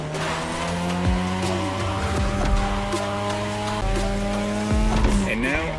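A race car drives at high speed in The Crew Motorfest, its engine droning in steady high pitch with tire squeals and whooshing passes, loud and close, with a downshift near the end.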